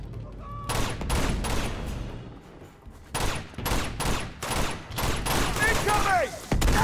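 Rapid bursts of gunfire from the video game Uncharted 2, a loud fusillade of repeated shots in clustered volleys with short gaps, close and dense throughout, with game sound effects mixed in.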